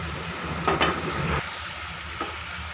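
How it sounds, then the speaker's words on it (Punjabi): Potatoes fry in a pan for aloo methi with a steady, close sizzle, broken by a few brief stirring scrapes and bumps. "ਪਹਿਲਾਂ ਆਪਾਂ ਆਲੂ ਪਾਵਾਂਗੇ ਆਲੂਆਂ ਨੂੰ ਫਰਾਈ ਕਰਾਂਗੇ"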